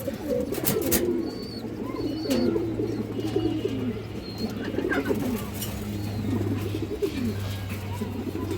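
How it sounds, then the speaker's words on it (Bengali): Pigeons, including jak-gola breeds, coo repeatedly at a bird market, low rolling calls layered close together, with occasional chirps, wing sounds and background bustle throughout. "এখানে আর এক প্যার কবুতর আছে জাকগলা কবুতর"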